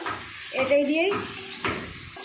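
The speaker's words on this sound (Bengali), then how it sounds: "দিয়ে খুব ভালো করে সমস্ত মশলা সবজিগুলো কষিয়ে নেব" Mixed vegetables stirred and sautéed with spices in a pan, with a brief splash of water, sizzling steadily up close while a spoon scrapes and stirs in a few short bursts, and some faint talk in the background.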